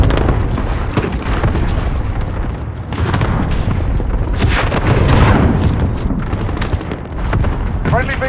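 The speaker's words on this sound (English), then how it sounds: "Enemy cluster strike incoming." Rapid, overlapping cluster-strike explosions in Modern Warfare 2019 rumble loudly and continuously as a dense, booming barrage with constant low-end roar and scattered sharper bursts.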